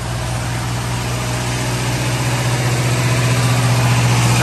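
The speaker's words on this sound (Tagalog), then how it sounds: "nagbukas na po si Kuya Tara ng makina" A machine engine, just started somewhere in the rural Philippines, idles with a steady low drone and slight rhythmic pulsing, close and loud, with no voices.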